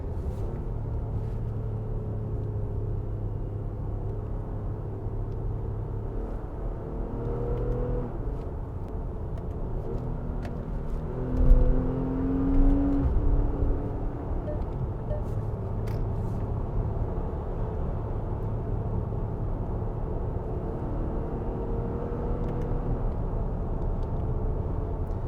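A 2022 Infiniti QX60 hums as it accelerates from inside the cabin, with a steady, muffled engine drone, tones that rise and then drop at quick gear shifts, and a slightly louder surge midway.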